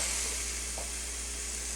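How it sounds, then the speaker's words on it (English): Steady hissing sizzle of chicken frying in a hot pan, continuous and fairly loud throughout with no voices. "A nice sizzle."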